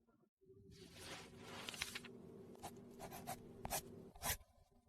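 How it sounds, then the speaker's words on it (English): A pen scratches quickly by hand across notebook paper, close and quiet, in a series of rubbing strokes with a few sharper scratches. No one speaks. "What are you jotting in that notebook daily?"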